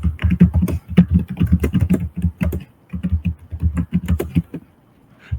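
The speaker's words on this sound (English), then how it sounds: "You have the loudest keyboard I've ever heard." Loud, rapid clacking of a computer keyboard, keys struck in quick uneven bursts close up, pausing briefly before trailing off.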